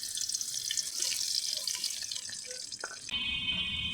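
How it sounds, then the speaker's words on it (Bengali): A small splash of water is poured into a cooking pan already holding oil, chopped onion and green chilies for a shrimp and spinach curry, giving a steady close wash of pouring and splashing that shifts to a brighter hiss near the end. "আমি অল্প পরিমাণে পানি দিয়ে দিলাম।"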